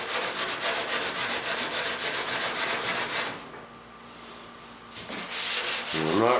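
Steady, rasping back-and-forth sanding of Bondo body filler over a fiberglass patch, close and loud. It pauses briefly before resuming.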